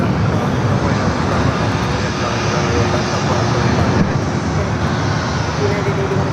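Bombardier Global 5000 business jet engines at LAX, a constant loud broadband roar with a faint whine, with talk underneath.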